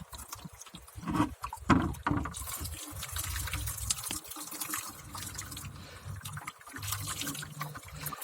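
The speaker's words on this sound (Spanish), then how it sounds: "vacían todo el ácido sulfúrico" Sulfuric acid poured out of a car battery being repaired, a steady liquid gush and splashing with gurgling pulses, fairly close and continuous with no talk.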